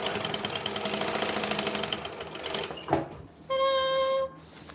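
A sewing machine stitches a zipper on a bag, a steady close mechanical whir with one brief clunk, then a short higher tonal hum before it stops.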